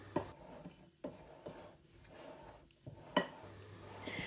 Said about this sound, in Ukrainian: Спочатку потрібно все гарно вимішати ложкою